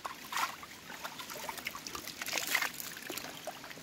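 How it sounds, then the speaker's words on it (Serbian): A mountain stream in untouched countryside flows and trickles steadily nearby, with a continuous splashing, bubbling wash of water and no voices. "Ovo je planinski potok gdje možete da se umijete, da se osvježite"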